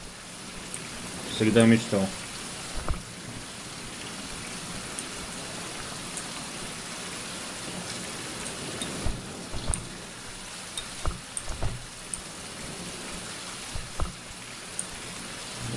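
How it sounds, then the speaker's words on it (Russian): Steady rain falling in the survival video game Survival Fountain of Youth, a continuous soft hiss running through the whole stretch, with a brief voice and a few small clicks over it. "Начался дождь."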